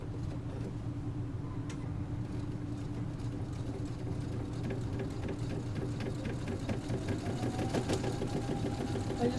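A sewing machine fitted with a blind hem foot stitches continuously, a steady close-up motor hum with a rapid mechanical needle chatter throughout.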